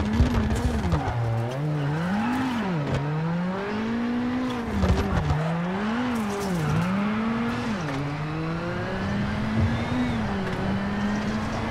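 Rally car in the WRC7 racing game spinning its wheels on a vineyard stage, engine note rising and falling in repeated revving sweeps with tire scrabble, loud and continuous throughout.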